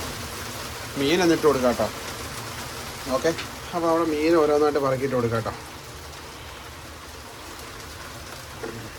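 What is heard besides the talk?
rain falling outside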